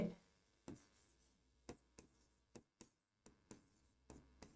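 Chalk or marker writing on a board during a maths lesson on relations and functions, heard as a run of sharp, separate taps and strokes spaced irregularly, fairly close and quiet, with no talk.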